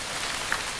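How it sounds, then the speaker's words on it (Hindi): Rain falling in a movie scene, a steady dense hiss of drops that continues evenly without a break. "मैंने कहा था ना कि बारिश होगी।"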